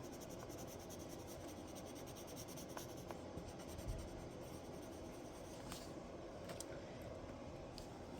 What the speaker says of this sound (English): I'm basically burnishing at this point.